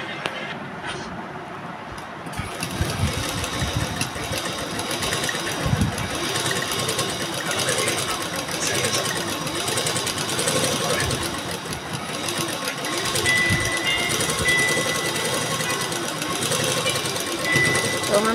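A sewing machine runs steadily while can-can netting is stitched onto a lehenga, a continuous close mechanical whir with knocking texture that starts after a quiet opening and continues to the end, with speech over it.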